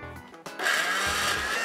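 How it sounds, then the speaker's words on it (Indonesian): An electric blender whirs loudly into a steady grind after a quiet start, pureeing a green paste of chili, garlic, coriander leaves and water until smooth. "Lepas tu kita blender je."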